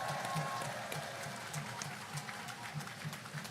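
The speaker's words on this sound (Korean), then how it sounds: "그들에게 박수 한번 보내주십시오." Applause from an audience at a South Korean presidential campaign rally for candidate Lee Jae-myung, distant and fairly faint, a steady patter of clapping over low crowd rumble.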